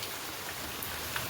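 Steady, gentle rain keeps falling on a village morning after pouring all night, a soft continuous hiss with faint scattered drops and no voices.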